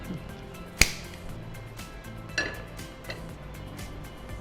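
A metal kadai (frying pan) is handed over and set down in a home kitchen, giving one sharp metallic clink and then a softer knock and faint clatter.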